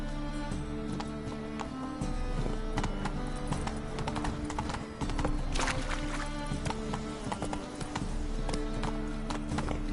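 Roach the horse galloping in The Witcher 3, steady clip-clop hoofbeats up close and loud, with a whinny and game music running underneath throughout.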